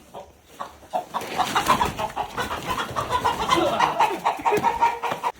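On a farm, several chickens cluck and squawk in busy overlapping bursts, close by and growing livelier, with some rustling movement among them.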